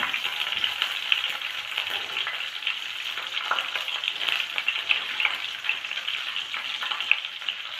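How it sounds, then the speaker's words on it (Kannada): Curry leaves hit hot oil with mustard seeds, producing a soft, steady sizzle with fine crackles and occasional sharper spits, close but fairly quiet and uninterrupted by talk. "ಈಗ ಒಂದು ಸ್ವಲ್ಪ ಕರಿಬೇವನ್ನ ಹಾಕೋಣ."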